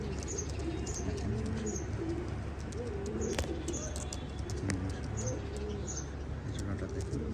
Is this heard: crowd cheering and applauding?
no